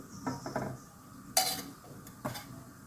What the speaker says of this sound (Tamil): இது இன்னும் கொஞ்சம் நேரம் கிளறி இருக்கட்டும்